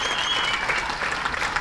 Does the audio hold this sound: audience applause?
yes